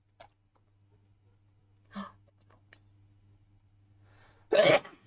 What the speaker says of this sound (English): Oh, I'm gonna sneeze again.